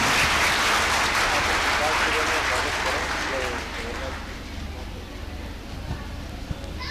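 Crowd applause welcomes speakers at an indoor community gathering in Chennai: dense, loud clapping for about three seconds, then fading into softer scattered claps and murmuring voices.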